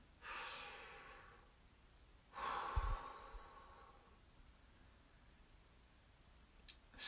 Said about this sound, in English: So there, I took a deep breath.